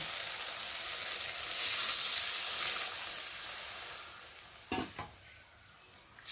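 Fried spice paste for a khoyra fish dish stirred in a hot pan: a steady sizzling hiss with a louder burst of scraping midway and a couple of sharp spatula knocks toward the end.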